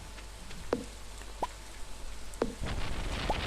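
Rain falling during a thunderstorm in the Stardew Valley farming game, a steady patter with a few sharp plopping hits and a swelling rumble toward the end.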